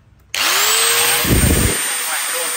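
A hand-held electric compactor with a rat-tail switch starts abruptly after a brief quiet moment, then runs loud and close with a steady, high-pitched motor whine that continues to the end.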